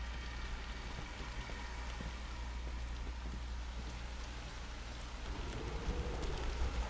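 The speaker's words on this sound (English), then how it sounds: "we go back into the rain" Steady, continuous rain from the game Observer pours down over a low rumbling drone, dense and close, with no speech.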